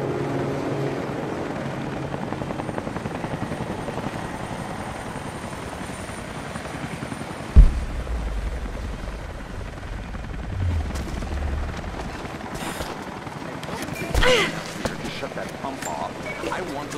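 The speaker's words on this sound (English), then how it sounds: "That was Constantine's chopper." A helicopter drones throughout a Soviet installation level of the PC game Rise of the Tomb Raider. Its rotor rumble holds steady beneath heavy thuds, sharp game effects and some voices.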